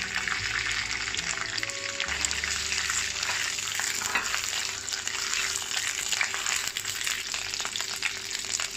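Shiitake mushrooms dropped into hot oil in a wok hiss and crackle in a dense, steady sizzle, close and fairly loud throughout, with a brief bump of handling near the start and no talking.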